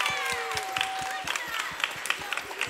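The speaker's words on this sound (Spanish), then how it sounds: "¡Y aplauso enorme de nuevo!" Steady applause and scattered clapping from an audience at a children's carnival contest, a broad wash of hand claps with sharper individual claps popping through and a brief tone in the background.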